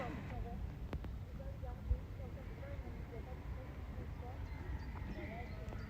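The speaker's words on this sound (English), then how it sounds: "Oh, the horses are here." Horses outdoors near a stream, faint and distant, with soft hoof movement amid birdsong and a low background murmur.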